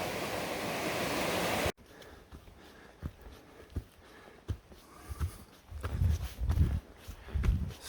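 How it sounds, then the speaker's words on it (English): Johns Brook, a creek running beside a hiking trail in the Adirondack High Peaks, rushes loudly at first, then settles into a softer, steady flow under scattered footsteps on the trail. "Walking along this creek, Johns Brook."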